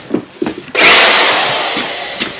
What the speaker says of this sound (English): going to drill down